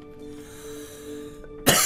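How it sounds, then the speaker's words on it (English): A single sharp cough bursts out near the end, loud and close, after a stretch of quiet steady background hum. "Why am I coughing so much?"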